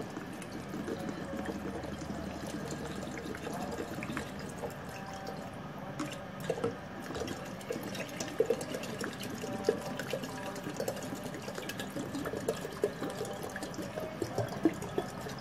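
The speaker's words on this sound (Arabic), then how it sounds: "انا كده مليت نص ميه" Water pours into an electric kettle, a steady trickling stream with small splashes and drips running throughout, fairly close and alone with no talk.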